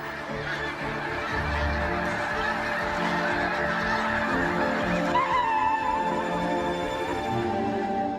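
A large flock of geese honks loudly and continuously, many overlapping calls forming a dense, chattering wall of noise.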